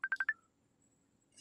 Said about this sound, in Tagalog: Nag-ring ti cellphone ko.